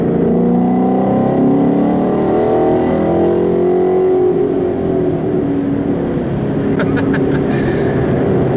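A modified 2014 Mustang GT 5.0 engine revs and pulls hard in third gear, its loud, steady drone rising in pitch as the car accelerates, with a brief higher whine near the end.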